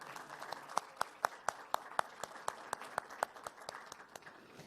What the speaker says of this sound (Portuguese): Um aplauso, por favor.